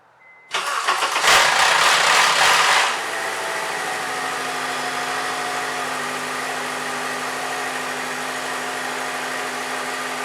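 A 2009 Honda Accord starting on a newly replaced starter motor: a brief cranking whir catches into a loud flare of revs, then drops into a steady, even idle that runs on alone.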